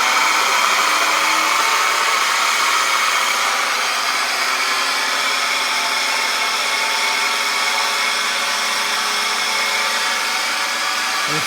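An Atec Casey Pro pitching machine runs its wheels at full speed, giving a loud, steady, unbroken whir that holds at one level throughout.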